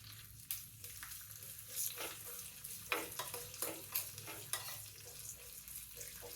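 Cashew pieces and raisins fry in hot ghee for coconut-milk undralla payasam, a steady close sizzle with repeated scraping stirs and small clinks building through the pan.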